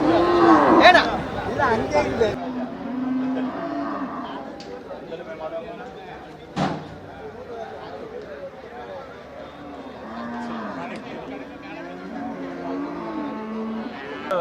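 Cattle low at the busy Melapalayam cattle market, one loud moo rising over a crowd of chattering voices and general trading-ground bustle.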